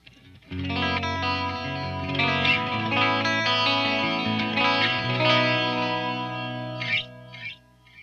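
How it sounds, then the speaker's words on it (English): Electric guitar through a Randall Satan 50 amp with Julia chorus and Flashback delay pedals, shimmering sustained chords ringing out steadily, then fading with a few trailing notes at the end. "let me turn on the old Julia chorus and the flashback too"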